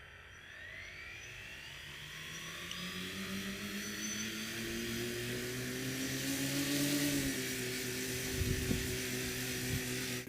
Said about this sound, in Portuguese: Só vou ligar os motores principais de sustentação para ver se levanta um pouco do chão.